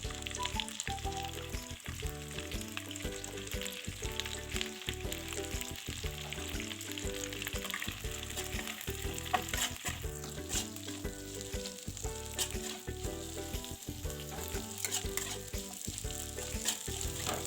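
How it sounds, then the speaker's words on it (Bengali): Chopped onions frying in a pan for a Bengali-style chili chicken, a steady, continuous sizzle and crackle that holds evenly throughout without any talking. "এবার কেটে রাখা পেঁয়াজগুলো তুলে দেব।"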